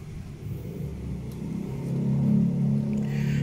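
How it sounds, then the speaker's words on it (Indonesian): Idling 2008 Kia Picanto with a 1100 cc four-cylinder engine, a low, smooth, steady rumble heard close by that swells slightly louder midway before settling, with no talk over it. "Ini mesinnya 1100 cc, 4 silinder. Jadi halus"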